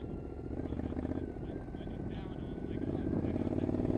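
An off-road motorcycle rides on a trail, its engine droning steadily and rising slightly toward the end, with people talking over it.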